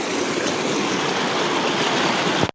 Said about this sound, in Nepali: त्यसको बाद पानी मात्रै रहेछ यहाँ